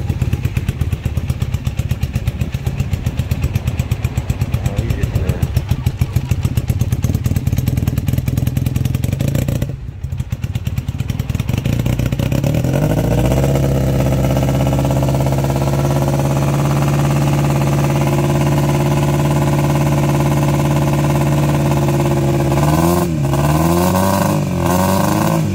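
A motorcycle engine running after 37 years in storage: steady, loud idle with a clattering, uneven rhythm, a brief dip, then revs that rise and settle into a smoother, steadier drone close to the microphone.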